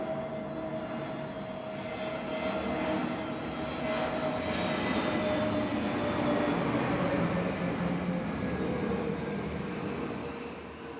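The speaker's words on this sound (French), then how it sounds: "il y a un avion." An airplane passes overhead as a long, steady engine drone that swells toward the middle and eases off, heard alone at moderate volume.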